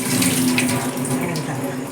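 Water runs steadily from a tap as fish is washed with turmeric and salt, a continuous close splashing stream throughout with no talk over it.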